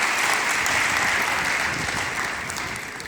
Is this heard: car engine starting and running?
no